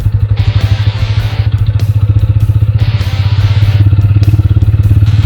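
TVS Apache RTR 160 4V motorcycle cruising in third gear, a steady close mid-pitched engine drone with rapid regular exhaust pulses and faint mechanical clatter, holding constant throughout with no voices.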